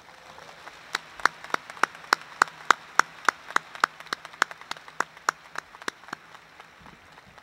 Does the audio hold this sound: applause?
yes